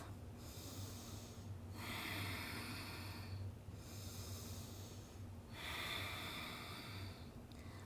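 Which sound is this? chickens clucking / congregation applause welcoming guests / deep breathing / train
deep breathing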